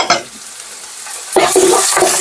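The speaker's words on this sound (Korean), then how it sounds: "살짝 볶아서 기름을 내줍니다." Chili peppers and green onion stir-fry in a little oil in a pot, first with a faint sizzle, then a louder, steady frying hiss broken by scraping stirs.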